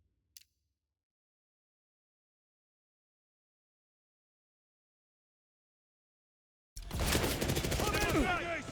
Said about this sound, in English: Yeah, we're shooting them.